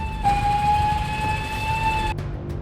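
An ambulance siren caught in heavy traffic, a steady high electronic wail holding one pitch for about two seconds over low street rumble before cutting off abruptly.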